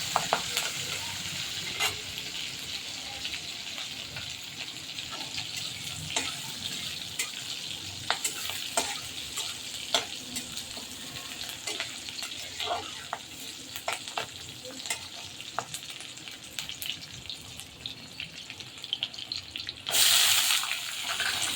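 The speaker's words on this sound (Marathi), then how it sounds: "हिरव्या मिरच्या घातल्या थोडंसं परतून घेतल्यानंतर त्याच्यामध्ये कांदा घातला" Onion and green chillies with curry leaves sauté in ghee for upma, giving a steady close sizzle broken by repeated spoon scrapes and stirs, with a brief burst of running tap water near the end.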